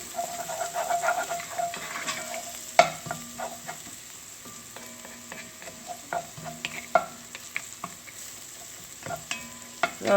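The base for goat biryani fries in a pot with a steady moderate sizzle, while spoon scrapes and clinks recur throughout and a louder knock lands near the start, all without speech.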